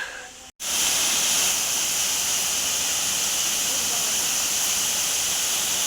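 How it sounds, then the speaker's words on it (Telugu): Waterfalls at Seethampeta among trees, a loud, constant hissing rush of falling water that starts abruptly after a brief cut and then holds steady, close and unbroken. "ఇక్కడ అంతా కూడాను చుట్టూ వాటర్ ఫాల్స్ సౌండ్"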